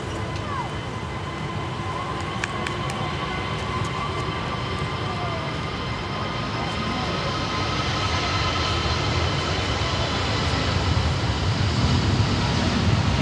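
A jet airliner roars steadily during its landing on runway 16 right at Sydney Airport in a crosswind, a broad loud rumble that builds slightly toward the end, with faint radio chatter beneath.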